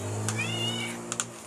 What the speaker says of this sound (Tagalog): Ang cute na mga kuting.